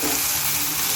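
Food frying in a pan with turmeric and mustard, stirred so it sizzles in a steady, close hiss with faint scraping, no voices.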